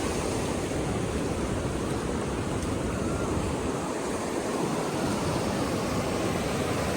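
Steady wind at a beach in Yilan, Taiwan blends with the wash of surf, a constant broad rushing noise without voices.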